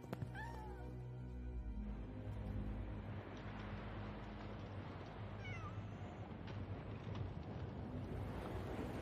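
Large flood waters rushing in a steady, dense wash of noise, with a few meows from a cat near the start and later on top of the roar.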